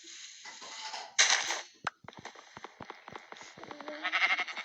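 A sheep bleats a few times amid sharp clicking and tapping sounds in a one-block Skyblock game, close and clear, with no talk over it.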